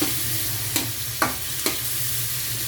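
Steady sizzle of shrimp and vegetables sautéing in a hot frying pan, with three or four sharp scraping clacks of a spatula stirring against the pan over the constant hiss.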